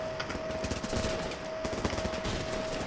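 Rapid automatic rifle fire in the war game Running With Rifles, dense bursts of shots rattling continuously, fairly loud and close, with no voices.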